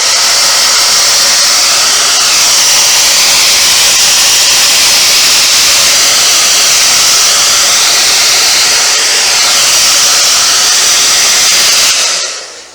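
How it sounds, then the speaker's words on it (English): A hair dryer blows a loud, steady hiss of air across a freshly painted latex mask, holding constant for about twelve seconds before cutting off abruptly at the end. "in the case the mask hasn't dried up after you apply that color, I use the hair dryer."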